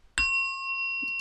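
A bell strikes once with a sharp attack and rings on as a clear, sustained metallic tone, close and alone.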